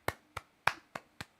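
Five slow, sharp hand claps in an even rhythm at a live debate event, close and distinct with short decays and no talk over them.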